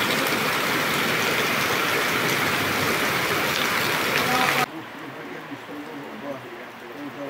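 Heavy rain pours down steadily for several seconds in a drought-hit region of northeastern Brazil, a dense, loud wash that abruptly drops to a much quieter patter near the end.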